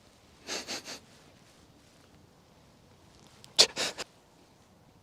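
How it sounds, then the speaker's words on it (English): A person sniffing through the nose: two short bursts of quick, breathy sniffs, about three each, close and quiet with a brief pause between them. "You can sniff."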